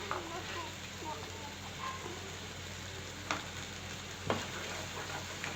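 Masala paste sizzles in oil in a kadhai for a mutton curry, a dense, even frying hiss close by with a couple of brief spatula knocks; quiet and steady, with no one talking.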